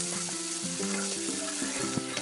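Tomatoes with salt sizzling in a pan for homemade ketchup while being stirred, a continuous close frying hiss with a humming tone underneath.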